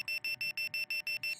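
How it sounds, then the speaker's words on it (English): A repeating electronic alarm from the Roblox game Bloxburg, sounding as rapid, evenly spaced high-pitched beeps in steady bursts, loud and alone with no talking. "Can I stop that alarm?"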